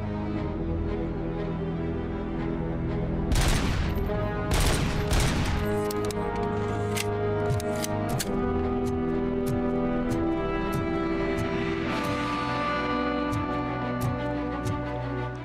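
Gunfire in the video game Robocop: Rogue City: a dense burst of rapid shots over a couple of seconds, loud and close, then scattered single cracks and clanks over a steady, droning game backdrop.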